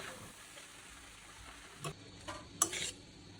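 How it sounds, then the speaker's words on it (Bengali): Chicken chow mein noodles are tossed with spices in a pan, making a faint, low sizzle with a few soft scrapes and clatters of stirring near the end. "দিয়ে দিচ্ছি নুডলসটাকে এখন মশলার সাথে ভালো করে মিলিয়ে নিব"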